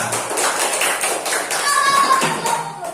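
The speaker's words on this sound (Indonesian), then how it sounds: "beri tepuk tangan untuk Nak Sahra" Students in a classroom clap for a classmate, a brief, fairly close spatter of mixed handclaps with voices murmuring underneath.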